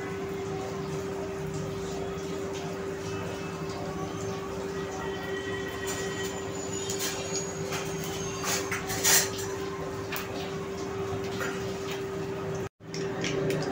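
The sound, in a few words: cumin and mustard seeds spluttering in oil in an iron wok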